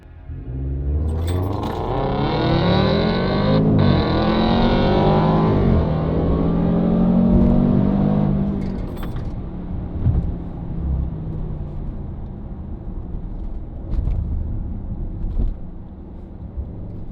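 Cars racing down a road: a loud, sustained engine roar climbs in pitch as one vehicle accelerates hard and then eases into a lower rumble, with a few sharp clunks toward the end and no voices.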